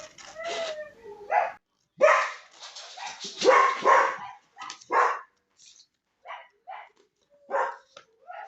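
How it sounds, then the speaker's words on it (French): Several dogs barking in repeated bursts nearby, sharp barks and yips coming in uneven clusters with short silences between, no talking over them. "Tous les chiens aboient là."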